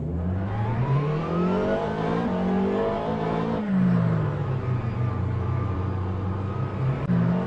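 Onboard engine of the number 95 McLaren 720S Evo in a racing video game, a steady loud drone rising and falling through gear changes with sweeping pitch shifts, no voices.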